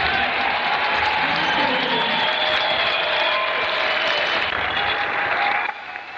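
Crowd at a Ted Cruz campaign rally in Iowa breaks into loud, sustained applause with some cheering, a dense continuous roar of clapping that fades slightly at the end.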